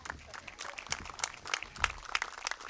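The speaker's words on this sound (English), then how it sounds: "if we could get one more round of applause for this tremendous group of young men" Applause for a junior high baseball team, a crowd clapping in a scattered, uneven patter of individual claps at moderate distance, fairly soft and steady throughout.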